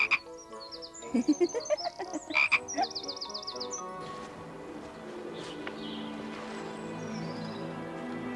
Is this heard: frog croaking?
yes